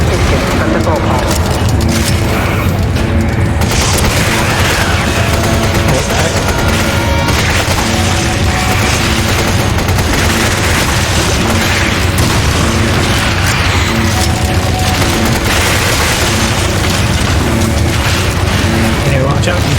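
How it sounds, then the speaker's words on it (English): Heavy, continuous booming and mechanical rumble as a primary bulkhead opens in Resident Evil 5, loud and dense throughout, with game voices talking over it. "Opening primary bulkhead"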